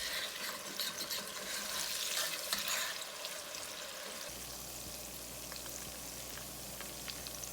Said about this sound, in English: Now the bacon and onions are fried.